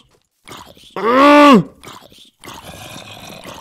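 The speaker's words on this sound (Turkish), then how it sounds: "Oğlum at var." A horse in the video game Minecraft gives one loud drawn-out whinny-like call near the middle, between quieter game noises and a voice talking.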